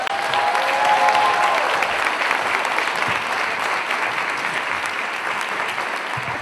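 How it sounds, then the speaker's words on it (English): Audience applause at the NABJ 2012 convention, a loud, sustained round of clapping from a large crowd that swells early and then holds steady, with faint voices mixed in. "You all give her the applause she deserves right now."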